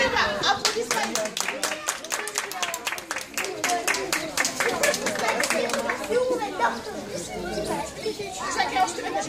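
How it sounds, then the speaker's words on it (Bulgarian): Dense, sustained clapping from an audience at a kindergarten graduation in Stara Zagora, steady rapid hand claps filling the room with children and adults chattering underneath. "Аплодисменти."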